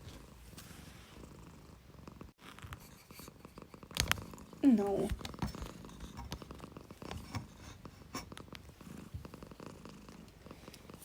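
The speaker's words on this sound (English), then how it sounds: "can you hear Lucy purring?" A cat named Lucy purring close by, a soft continuous rumble that runs throughout alongside rustling and handling noises, with a person speaking briefly.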